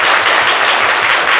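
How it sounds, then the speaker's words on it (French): A studio audience on a Côte d'Ivoire midday TV show applauds loudly and steadily, a dense wash of clapping that fills the whole moment without pause or voices. "Je vais d'abord demander au public de l'applaudir très fort."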